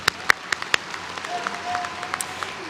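An audience at a graduation commencement ceremony claps, scattered, fairly faint hand claps in a large hall, sparse and uneven rather than a full ovation.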